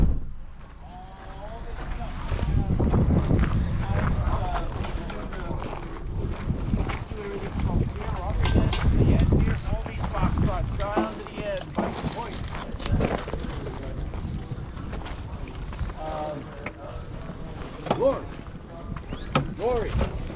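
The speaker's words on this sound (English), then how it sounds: "The wind is just insane." Strong, bitterly cold wind buffets the microphone outdoors, a continuous low roar with gusty surges that runs throughout, while people talk over it.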